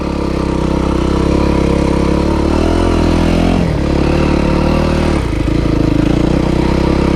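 Motorcycle engine running steadily up close, a loud continuous mid-pitched rumble with brief dips in revs around the middle, ridden on a rough, dug-up forest track.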